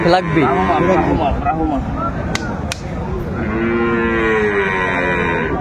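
Dairy cows and calves at the Aftabganj cattle market in Dinajpur give loud, close moos, one short call early and a long sustained bellow later, over constant market chatter.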